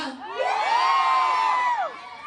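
A crowd at a busy street food stall shouts and cheers together in one long, loud, swelling whoop that rises, holds for about a second, then falls away.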